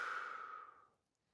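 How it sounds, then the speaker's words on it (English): A single forceful exhale during a guided breathing exercise, a loud breathy rush of air that fades out over about a second, heard alone and close up. "Inhale and exhale really hard."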